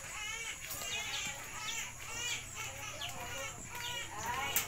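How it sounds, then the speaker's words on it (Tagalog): Chickens cluck and chatter in a busy, overlapping cluster, fairly faint and close, with people's voices and children mixed in around them. "Ito yung mga manok."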